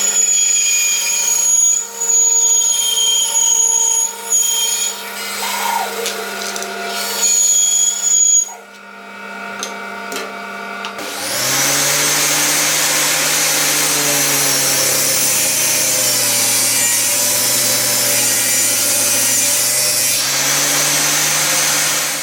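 A power saw rips through hardwood panels being cut in half for boat washboards, starting after a quieter stretch of workshop hum and then buzzing loud and steady until the end.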